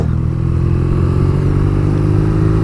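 A 2017 BMW R nineT motorcycle engine pulls hard at speed, a loud, steady mechanical roar with rising revs and wind rush, heard up close from the rider's position with no talking.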